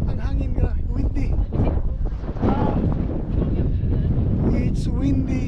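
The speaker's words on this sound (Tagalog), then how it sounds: "It's windy." Strong wind on a mountain peak buffets the microphone in loud, rumbling gusts throughout, with a voice speaking intermittently underneath.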